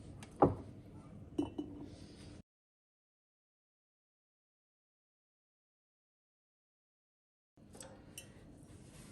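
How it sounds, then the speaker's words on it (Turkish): Lightly crushed garlic cloves drop into a glass bottle for a garlic and lemon cure, giving a few small, close glassy clinks at first, then a long silence before more faint clattering. "Şimdi sarımsakları sadece şöyle bir hafif ezip yapacağım şişeye atıyorum."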